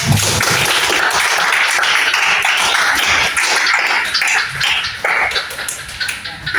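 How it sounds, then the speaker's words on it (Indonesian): Students clapping in a classroom after an economics lesson, a busy, uneven patter of hands at close range that continues steadily, then thins toward the end. "Terima kasih. Tepuk tangan."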